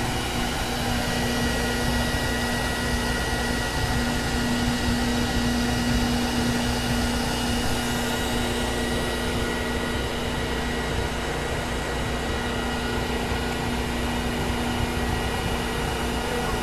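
An insulation blowing machine pushes loose attic insulation through a hose, giving a steady, loud, unbroken whooshing roar with a constant low motor hum underneath that runs the whole time without pause.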